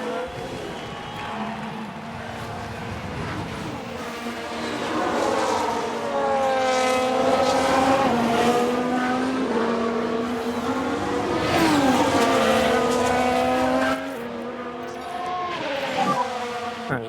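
Engines of race cars wail and rise in pitch as they pass in the F1 Manager 22 racing game, set in a 1994 season, loud and continuous, with some shifting tones.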